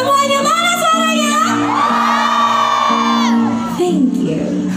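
Concert audience in Indonesia shouting and cheering loudly at a live show, a dense sustained roar of many voices with strong harmonic yells, continuous throughout and fading slightly near the end.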